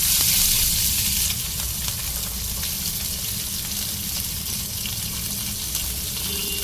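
Thinly sliced onion frying with coriander leaves, mint, curry leaves and green chillies in hot oil, giving a steady, close sizzle that is loudest in the first second, then settles into a constant hiss.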